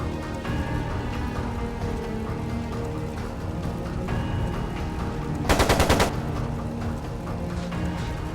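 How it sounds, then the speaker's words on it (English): Rapid machine gun fire bursts out in the video game Trails of Cold Steel II, a short loud rattling volley over steady background music and game ambience. "It sounded like a machine gun."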